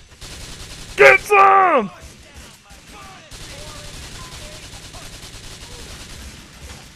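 Rapid gunfire bursts in Grand Theft Auto IV, a loud volley of shots against a game soundscape, with someone shouting over it.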